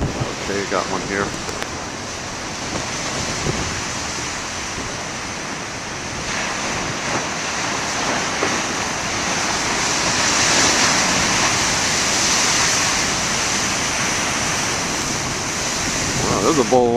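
Big ocean surf crashes and rolls continuously against the shore under gusty wind, a loud, broad roar swelling and easing, with a voice briefly heard at the start.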